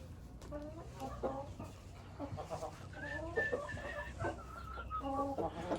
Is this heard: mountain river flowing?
no